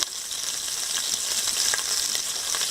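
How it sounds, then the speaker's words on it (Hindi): A steady sizzling crackle of ginger-garlic paste frying in a hot pan, close and continuous, with faint scraping from stirring and no talking. "अदरक लहसुन का पेस्ट जो है थोड़ा सा फ्राई हो रहा है"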